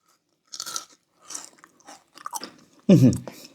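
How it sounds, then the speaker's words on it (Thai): Crispy pork cracklings crunched between the teeth in a few quick, close bites, ending in one louder, heavier crunch. "กากหมูกรอบมากนะครับ"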